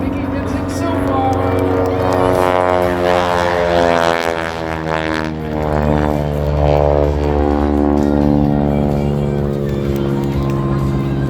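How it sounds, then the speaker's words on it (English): A 1940 Boeing-built crop duster biplane from Tulsa performs at an airshow, its propeller engine droning loudly and steadily while an announcer talks over the public address system. "This airplane, built by the Boeing Company in Tulsa, Oklahoma back in 1940"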